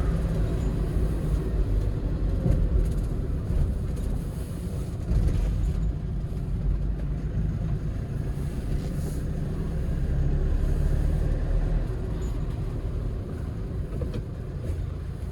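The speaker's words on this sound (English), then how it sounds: "Okay, straight. I'll try. Second gear, third gear," A Hyundai Porter 2 truck drives steadily with a continuous low engine rumble and road noise inside the cab, with slight rises in level suggesting gear changes as it picks up speed.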